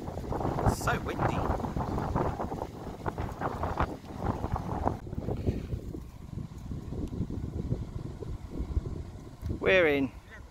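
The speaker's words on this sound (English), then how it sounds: "It's so windy." Strong wind buffets the microphone on an open golf course, a steady rushing roar with low gusting rumble throughout, while people talk over it and a brief whistling sound rises near the end.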